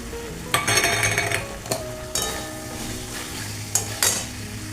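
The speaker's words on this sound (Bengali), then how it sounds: "আলুটা আগে দিয়ে একটুখানি কষানো হোক" Potatoes sautéing in a pan with cashews and raisins for jackfruit kalia, a constant sizzle punctuated by several clinking spatula strikes against the metal pan, close up with no talk.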